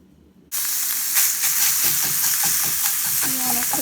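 Half a link of skinned longaniza sausage hits a hot frying pan with a sudden loud sizzle, then keeps up a steady close crackling hiss with faint scraping from stirring.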